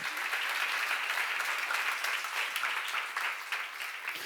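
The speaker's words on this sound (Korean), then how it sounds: "박수를 하세요." Congregation clapping during a church Bible seminar, a steady, even roll of many hands heard from some distance, soft and uninterrupted.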